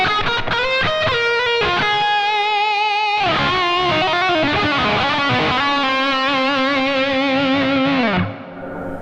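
A Yamaha Pacifica 502V electric guitar played through its humbucker pickup into a distorted amp: a few choppy chords, then a sustained, heavily overdriven passage that rings out loud and alone before cutting off.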